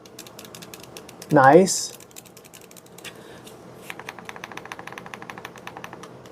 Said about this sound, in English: Triggers. They sound nice and clicky.